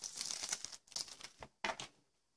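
Flexible plastic screen protector film for a tablet case is handled close up, giving soft crinkling and crackling bursts in quick irregular clusters, fairly quiet, with short pauses between.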